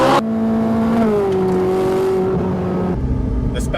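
A 2020 Ferrari F8 Tributo Spider's turbocharged 3.9-liter V8 engine revs loudly and close, its pitch rising and holding in a smooth, strained drone before easing off and shifting.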